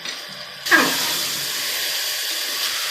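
Two glasses of water are poured into a hot pan of tomato bath, bursting into a sudden loud hiss of steam and sizzle that then holds steady and close, with no talk.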